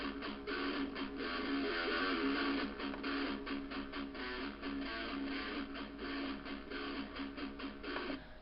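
Recorded electric guitar track played through a simulated Orange cabinet, a dense, steady strummed tone with rhythmic chord pulses, continuous and alone.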